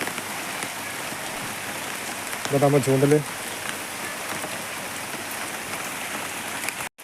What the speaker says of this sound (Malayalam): നല്ല മഴ ഒക്കെ പെയ്യുന്നുണ്ട്